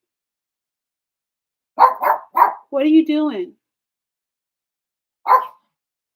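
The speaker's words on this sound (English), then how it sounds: "It's the dog barking for me." A dog barks in a quick burst of three or four sharp barks, then once more after a pause, mixed in with a person speaking nearby during a motivational talk.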